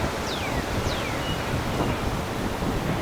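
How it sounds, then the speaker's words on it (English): Strong wind buffets the microphone outdoors on a Coppell, Texas disc golf course, producing a steady, loud low rumble throughout, with faint bird chirps overhead. "Look at the wind just ripping."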